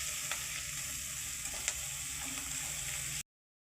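Fish curry masala frying and being stirred in a pan, a bright continuous hiss with a couple of quick scrapes, then cutting off abruptly.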